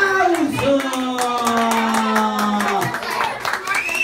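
Clapping at a child's birthday party, brisk hand claps mixed with a sustained voice and children's chatter, the group clapping continuing for several seconds close by.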